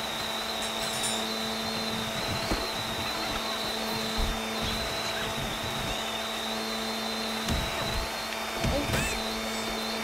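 A rhino-mounted leaf blower in Goat Simulator 3 whines with a steady high-pitched drone and low hum, broken by a few short thumps, while a voice speaks briefly.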